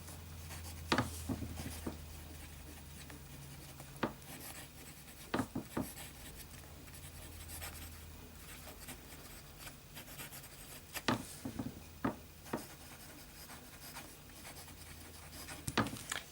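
A medium-nib fountain pen writes on paper with Kaweco Sepia Brown ink, soft scratchy strokes broken by sharper taps and lifts, close and quiet, without talk.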